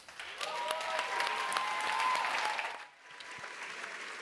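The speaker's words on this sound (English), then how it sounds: "Let's give them a round of applause." An audience applauds at a food forum closing ceremony, broad clapping and some crowd noise with a sustained tonal note over it, fading out near the end into a quieter room.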